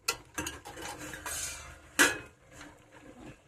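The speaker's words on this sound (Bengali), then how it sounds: "5 মিনিট হয়ে গেছে, আমি এবার ঢাকনাটা খুলবো।" Metal clatters and clinks as the lid comes off a pot of chicken stew with winter vegetables, several sharp knocks and scrapes spaced irregularly, one louder clank near the middle, with no talking.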